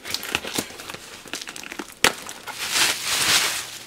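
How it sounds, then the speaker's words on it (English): A knife slices through cardboard box packaging, giving a crackling, crinkling scrape with one sharp snap near the middle and then a louder, longer tearing rasp close to the microphone. "Let's get a real knife, hold on, let's just cut through this."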